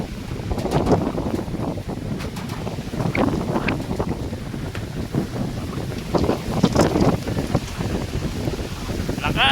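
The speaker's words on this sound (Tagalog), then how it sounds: "Lakas po ng hangin dito sa amin," Strong wind buffets a riverside spot where a flooded river has overflowed into houses near the sea, a steady loud roar of gusts with rumbling microphone buffeting throughout.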